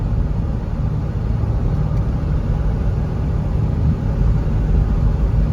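A 3rd generation Toyota 4Runner drives along with a steady, continuous engine drone and road rumble, holding a fairly even, loud level throughout without clear breaks between gear changes.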